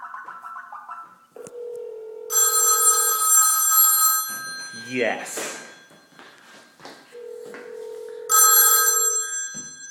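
An old rotary telephone, rewired, rings with loud metallic bell bursts around a steady tone, with people talking in between the rings.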